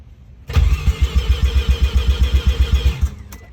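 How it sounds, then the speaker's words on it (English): Rotary engine of a Mazda RX-7 FC with a swapped-in Turbo II motor cranking and catching on first start, a loud, close, lumpy idle pulsing in a rough steady rhythm for a few seconds before cutting off. "it should hopefully start up first time with no problems. Might run a little rough"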